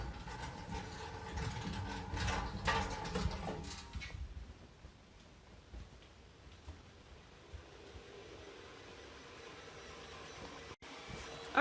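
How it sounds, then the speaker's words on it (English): A steady mechanical whirring and humming from a 3D printer, with louder broadband noise for the first few seconds before settling into a quieter continuous drone. "I know that the 3D printer is kind of loud."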